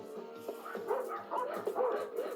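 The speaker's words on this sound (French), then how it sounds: "Ces sales cabots sont toujours à me courir après." A pack of dogs barks and yips in a quick, overlapping series of sharp calls at moderate distance, with some whimpering mixed in.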